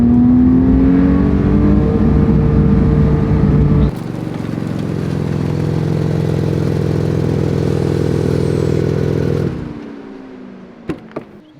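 Porsche 911 GT3 engine in limp mode, revving hard and hitting the rev limiter, a loud sustained howl with a rising tone that cuts abruptly, then holds a lower strained drone before dropping away, followed by a few faint clicks.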